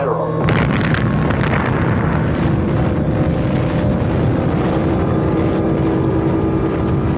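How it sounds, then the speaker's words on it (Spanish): A huge atomic bomb explosion erupts with a sharp blast, then a sustained, heavy roar rumbles on loudly without letting up. "Con aquella gigantesca explosión"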